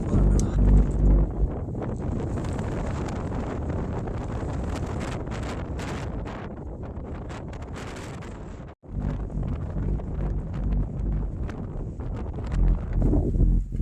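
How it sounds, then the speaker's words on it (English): Strong wind buffets the microphone on an exposed mountain peak in Joshua Tree, a loud, continuous roaring rush with gusty surges, a brief drop near the middle, then renewed blasting. "we were just getting blasted by the wind"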